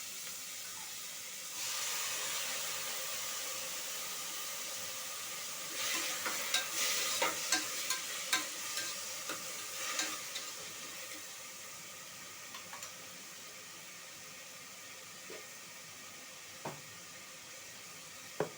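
A steady, soft sizzle of chopped tomatoes and vegetables frying in a pan for salna, with scattered clinks and scraping of stirring.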